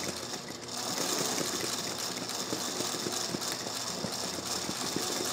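A home sewing machine runs steadily, straight-stitching stretch fabric over thick interfacing without a hoop. The whir is fairly quiet and continuous, with a fast, even mechanical patter.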